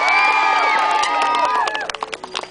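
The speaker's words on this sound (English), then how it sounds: "let's hear a big round of applause" A crowd of spectators at an extreme mountain bike show cheers and shouts, loud at first, then fading into scattered whoops and claps.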